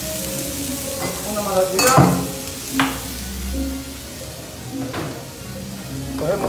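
Garlic frying in a small amount of oil, with a steady sizzle and a few stirring scrapes and clacks; a voice speaks briefly over it.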